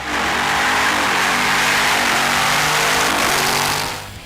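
A Chevrolet Camaro ZL1's 6.2-litre Eaton-supercharged V8 revs hard and loud, a steady roaring drone with layered harmonics that holds for several seconds before easing off.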